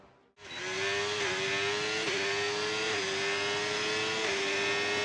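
Racing car engines during qualifying at Spa-Francorchamps in a video game: after a brief hush, a loud, close, high-pitched engine roar holds steady with small shifts in pitch, running to the end.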